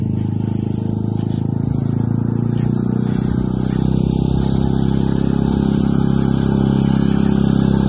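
A 2018 Tao Racer beginner motorbike runs at a low, slow pace, with a loud, steady engine drone close by that holds evenly with a slight rise, alone and without talk.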